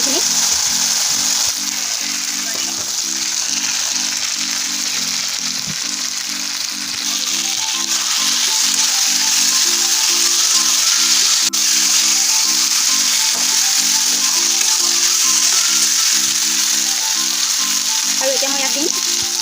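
Fried bitter gourd and potato pieces land in hot oil with spices, giving a loud, steady sizzle that lasts throughout, with a gentle recurring hum running underneath the frying.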